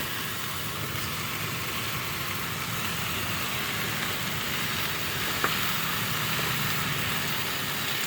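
Liver frying in a pan at the beach, a steady soft sizzle running throughout, fairly quiet and even, with no talking.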